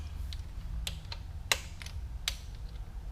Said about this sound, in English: Take our torque wrench,